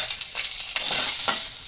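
Chopped onion stirred in hot oil in a pan for a Tamil onion gravy, a steady close sizzle with a few sharper scraping stir strokes, no talk.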